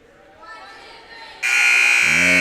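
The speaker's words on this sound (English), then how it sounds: "So the buzzer will sound, and the teams will get ready to break huddle" Loud buzzer at a girls' 7th grade basketball game sounds abruptly and holds steady, with a low tone joining near the end, following a stretch of faint crowd murmur.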